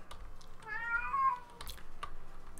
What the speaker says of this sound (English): And that loud meow, that's my cat.